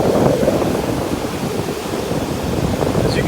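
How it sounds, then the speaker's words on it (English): Rough lake water at Chicago during a severe thunderstorm with gusts up to 65 mph: steady, dense roar of surf and wind buffeting the microphone, continuous and loud with no distinct individual wave breaks. "the water is rough and the waves are crashing with great force"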